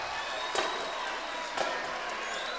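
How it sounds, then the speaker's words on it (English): A high school boys varsity basketball crowd in McPherson roars during a timeout in a close game, a dense sustained wash of cheering and noise with a couple of sharp thumps. "listen to this crowd."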